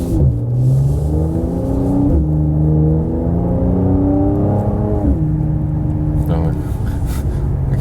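A Mercedes C43 AMG with automatic gearbox climbing a hill, its engine note rising in pitch through several upshifts with brief dips between gears, heard from inside the cabin.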